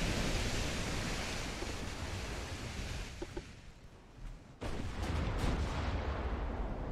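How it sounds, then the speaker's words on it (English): Ammunition detonation aboard a light cruiser in the naval battle game Ultimate Admiral: Dreadnoughts, a broad roaring blast over steady sea wash, which cuts out briefly and then surges back loud and sustained, with no voices. "There's an ammo detonation."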